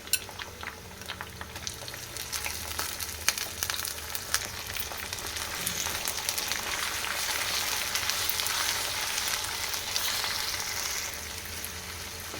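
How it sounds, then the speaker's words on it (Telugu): Onions frying in a pan until golden brown for chicken curry hiss and crackle in a steady sizzle that builds louder toward the middle, with occasional utensil clicks and no voices. "ఆనియన్ గోల్డెన్ బ్రౌన్ కలర్ వచ్చే వరకు ఫ్రై చేసుకోవాలి"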